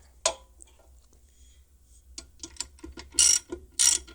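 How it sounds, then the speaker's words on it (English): A strap ratchet is tightened on a platform e-bike rack. A sharp first click is followed by a quickening run of close ratcheting clicks and two louder rasping pulls, with no talk. "tighten it up as good as you can, just to the point where you can barely feel this moving"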